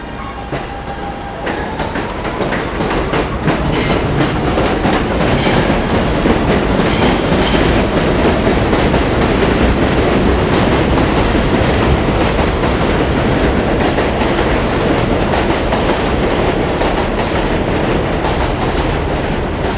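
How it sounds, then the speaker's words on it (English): An elevated F subway train rumbles past overhead in Gravesend, Brooklyn, with continuous clattering wheels and metallic rattling, loud and sustained for the whole stretch. "Seems like the F train's running pretty well today."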